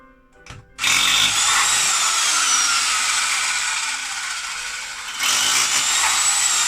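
A power drill boring into a concrete block runs loud and continuous after a brief startup, easing slightly midway, then surging again near the end, close up with no talking.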